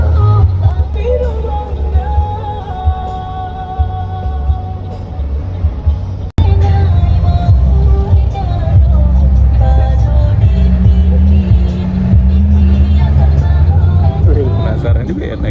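A Pangeran bus passes on a road, its deep diesel engine drone swelling loud over street noise while people talk nearby.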